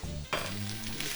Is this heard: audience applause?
no